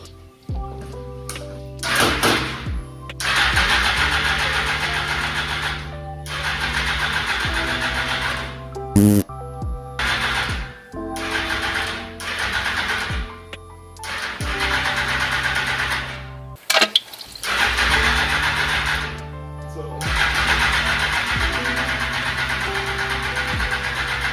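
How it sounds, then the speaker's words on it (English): A 2006 Suzuki GSX-R 1000 motorcycle under rebuild makes repeated starting attempts. Loud, close bursts of cranking and revving engine are broken by short pauses. "this is gonna be the first attempt, first start on the bike, on camera. So let's see if she fires up."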